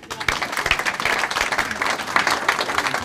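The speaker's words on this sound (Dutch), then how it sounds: "Hartelijk applaus." Studio audience at a Dutch TV cooking talk show applauding a guest chef of Italian cuisine, a dense steady wash of many hands clapping with scattered cheers, fairly close and sustained for about three seconds.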